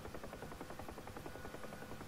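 A UH-1 Huey helicopter flies in the DCS flight simulator game, its rotor beating out a steady, rapid rhythmic chop that stays even and constant throughout, with no talking.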